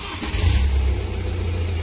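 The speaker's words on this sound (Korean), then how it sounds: "시동 걸겠습니다." A scrapped BMW 520d F10 with an N47D20C diesel engine catches and fires up nearby, a brief crank settling into a deep, loud low rumble within two seconds.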